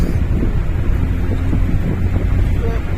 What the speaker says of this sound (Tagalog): Hangin kayo sa Boulevard, Boulevard.